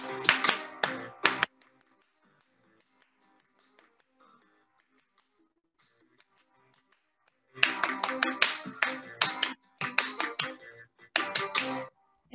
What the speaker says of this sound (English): just clap it